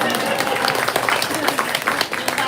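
Audience clapping during a talk about food waste recipes, a dense, steady patter of many hands close by with voices mixed in, lasting the full stretch.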